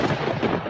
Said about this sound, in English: In the background, you hear lightning.